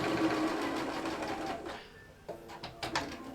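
A sewing machine stitches a quarter-inch seam on a Christmas bauble hot pad. It hums steadily for under two seconds, then stops, followed by a few brief mechanical clicks and knocks nearby.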